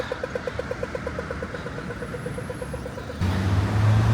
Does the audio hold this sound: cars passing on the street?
yes